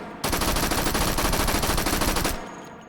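A Thompson M1928 submachine gun in the H3VR virtual reality game fires one long, rapid, unbroken automatic burst, loud and close, then cuts off abruptly and leaves a short ringing tail.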